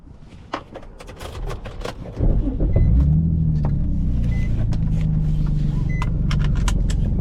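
A Nissan 350Z starts up and settles into a steady, loud, low engine rumble from inside the car, after some quiet handling noises and small clicks.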